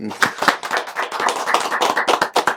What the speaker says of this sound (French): Donc il faut l'applaudir, ce monsieur.